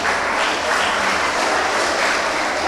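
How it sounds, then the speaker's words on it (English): Steady applause from a crowd at a children's contest in Gambia, dense and continuous clapping throughout with no voices standing out. "Give her a round of applause once again."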